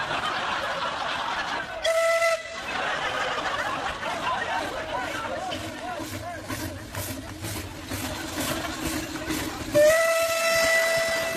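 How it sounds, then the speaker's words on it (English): A steam locomotive lets out loud whistle blasts as it chugs past a football ground in Slovakia, two sharp whistles framing a steady hissing, puffing run beneath distant crowd noise. "If there were more steam trains going up and down."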